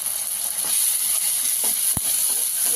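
Ginger garlic paste fries in a hot pan with a steady, bright sizzle and hiss, joined by a few faint scrapes and taps of a spoon stirring.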